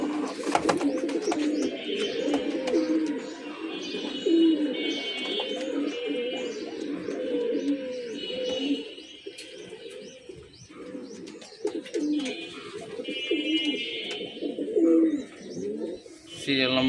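A pair of flock pigeons coos in steady, repeated low rolling calls close by, with faint chirps in the background and no talk over them.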